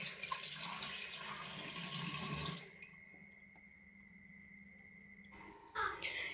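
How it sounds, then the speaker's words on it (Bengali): Water runs loudly from a kitchen tap over desi chicken being washed, a steady rushing splash for about two and a half seconds that then cuts off, leaving a quiet room with faint insect-like chirping before a brief final burst. "এটাকে আমি ভালো করে ধুয়ে নিই, ধুয়ে জল ঝরাতে দিই,"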